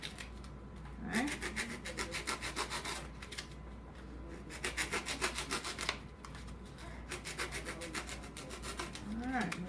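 Foam on an arrow shaft is filed to a bevel in repeated rapid rasping strokes, grouped in close bursts with brief pauses for rotating the piece.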